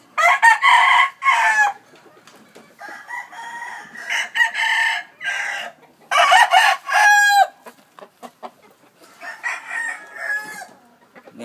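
Gamefowl roosters, including eight-month-old cocks, crow and cluck in loud, close bursts separated by short quiet gaps, several calls overlapping.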